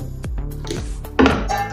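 Metal pots and a dhokla steamer vessel clinking and clattering as they are handled in a home kitchen, a few short knocks followed by a louder clatter near the end.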